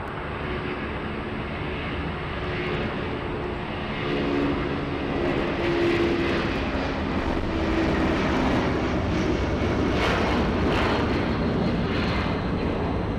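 A Boeing 757 jet airliner roars loudly and steadily at an airport, its broad engine rumble swelling slightly as it passes close by, with no voices.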